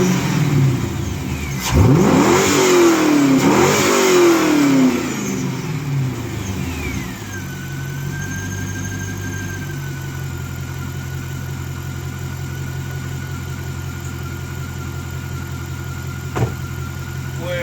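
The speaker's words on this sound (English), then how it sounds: "Now all I can hear is the injector firing." An LS1 V8 with MSD ignition revs up twice in quick bursts, then settles into a steady idle with a faint rapid ticking of injectors firing, close and loud, with no speech.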